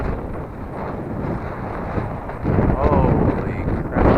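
Strong, gusty wind roars and buffets the microphone outdoors while a small brushless Eachine Mini P47 RC plane flies, a constant loud rumble that swells harder in the second half.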